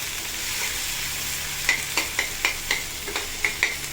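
Chicken masala and onions get stirred in a hot pan, a steady close sizzle broken by a quick run of about eight sharp spoon scrapes and taps, with no voices.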